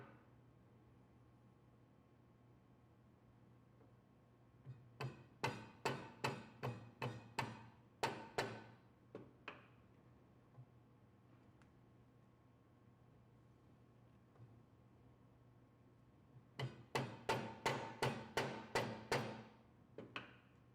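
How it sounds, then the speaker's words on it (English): A rubber mallet lightly taps the lower edge of a SawStop table saw fence faceplate in two quick runs of about eight and six soft, dull knocks, each run separated by a quiet pause. "Use the rubber mallet to lightly tap the lower edge of that faceplate."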